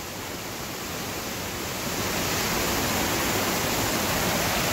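A 45 ft roadside waterfall at Falling Springs, Pennsylvania roars as a broad, steady rush of falling water, close and loud, swelling slightly as the listener moves nearer.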